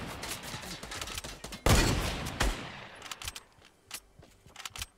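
Rapid gunfire in a video game builds to one loud, heavy shotgun blast, then gives way to sparser, fainter shots and clicks.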